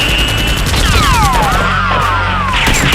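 Nerf guns firing in a staged battle, a dense rapid volley of loud close shots over a continuous rumble, with whistling sweeping tones sliding through the burst.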